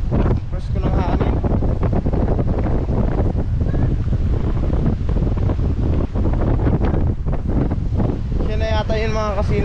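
Strong wind blows at a beach where a sea turtle has washed ashore in big waves, roaring loud and steady across the microphone with surf beneath, while a voice speaks at the end.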